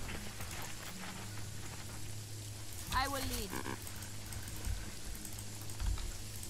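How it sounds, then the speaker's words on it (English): Heavy rain in the Jagged Alliance 3 tactical game falls as a steady, soft hiss beneath a few short spoken words and brief game effects. "The rain is ultra heavy."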